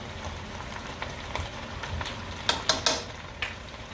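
Onion and grated garlic frying in a pan: a soft continuous sizzle under a few sharp clinks and scrapes of a utensil near the end, with no talking.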